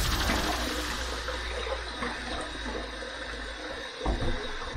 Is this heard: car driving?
no